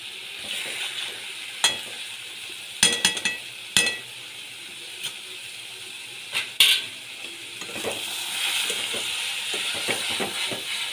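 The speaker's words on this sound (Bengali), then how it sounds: "এখানে আমি এক চামচ ঘি দিয়ে দিচ্ছি" Ghee sizzles in a pan while cabbage cooks, a steady hiss with scattered sharp clinks and scrapes of stirring, close and moderately loud, alone without talk.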